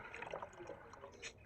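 Garlic-infused water pours into a chicks' drinker in a small burst of liquid splashing and trickling, quiet and close.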